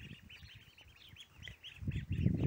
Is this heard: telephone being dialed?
no